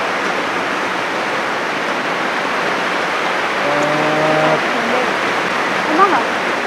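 Dense, steady hiss of heavy rain pouring without a break on a house roof in Thailand, with a brief low droning tone rising out of it partway through.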